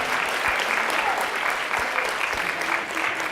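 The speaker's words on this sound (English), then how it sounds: "please, a big round of applause for those two amazing women" An audience at the WiDS 2018 datathon applauds the two organizers, sustained dense clapping that fills the room evenly with a few louder individual claps standing out.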